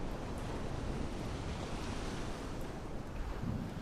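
Ocean surf washes in a steady, continuous roar along a shoreline in The Mound: Omen of Cthulhu, broad and fairly quiet with no breaks or voices.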